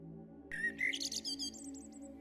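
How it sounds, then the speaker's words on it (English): A small bird chirps softly in a forest setting, a quick series of high thin tweets over a quiet background, close and gentle. "He looked down at the little bird, who chirped softly."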